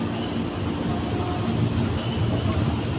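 KRL commuter train rolling through Manggarai station, a steady continuous rumble and rail roar filling the short stretch with no talk.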